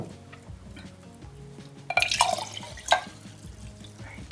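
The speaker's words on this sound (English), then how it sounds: "So pour the water, 2 glasses." Two glasses of water are poured into a jar of rice for fermented rice water. There are bursts of splashing and trickling with a couple of sharp surges, over a low background hum.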